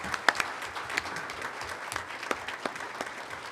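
Applause from an audience at a school board of education meeting, a steady crackling wash of many hands clapping with a few sharper claps standing out, moderately loud and continuous throughout.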